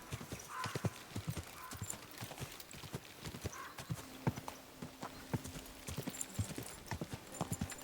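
Horse hooves clip-clop in the video game Kingdom Come: Deliverance 2, a steady close rhythm of hoofbeats with a brief whinny and soft ambient game sound.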